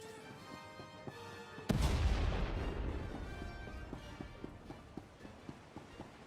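A heavy weapon discharges once in a sci-fi video game, a sudden loud boom with a long rumbling decay, followed by a steady run of faint rhythmic clicks or footfalls.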